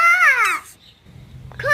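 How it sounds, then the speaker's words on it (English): A tortoise lets out a mating call: a strained, falling, voice-like moan up close, followed by a quiet pause and the start of another short cry. "Tortoise mating sound."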